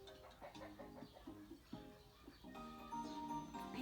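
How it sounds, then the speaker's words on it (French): Pet hens clucking and making odd, eerie calls in fits and starts, fairly faint and close by, with no one talking. "Si vous entendez des bruits un peu flippants, sache que ce sont mes poules."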